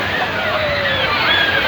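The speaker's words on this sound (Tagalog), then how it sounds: "Yung wave dito. Ito yun oh. Ang ganda ng wave." Water sloshing and churning in an outdoor wave pool, a continuous close wash of waves with a crowd babbling and a voice talking over it.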